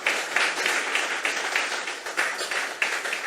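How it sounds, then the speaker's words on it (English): Audience clapping at a Mayaro awards ceremony, a steady patter of hands with small swells, moderately close and sustained through the moment, with no talking over it. "Let's get a real clap."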